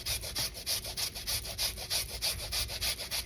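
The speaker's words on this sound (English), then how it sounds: "we are going to take a grater." Potatoes are grated on a hand grater with steady, rhythmic rasping strokes, about three per second, close and fairly loud, with no voices.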